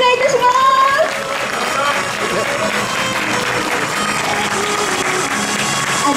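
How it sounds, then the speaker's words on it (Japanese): Audience applause after a samurai entertainment stage show at the Edo Tokyo Night Market, a broad clapping wash with some cheering and music, fading slightly after the first second. "今一度大きな拍手をお願いいたします。"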